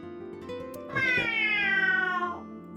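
A character in the video game Ai: The Somnium Files imitates a cat's meow, voicing one long, drawn-out, wavering meow over soft background game music.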